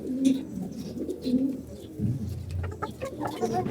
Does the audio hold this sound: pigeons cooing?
yes